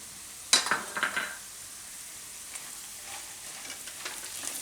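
Peanuts dropped into hot oil for a yam sabudana khichdi, giving a sudden loud sizzle and clatter at the start that settles into a fainter, steady frying crackle.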